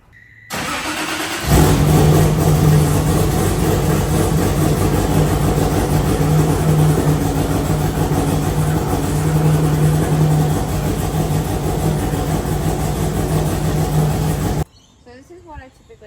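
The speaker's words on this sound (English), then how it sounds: "get the car down off jack stands now and crank it a little bit" A Nissan S13 with a 1JZ engine cranks briefly, catches, and roars to life, then runs loudly with rumbling revs for over ten seconds before cutting off abruptly.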